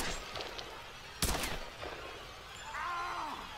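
Gunshots in the video game Tomb Raider: a loud, sharp blast stands out midway amid a few softer shots and game noise, with a voice briefly heard toward the end.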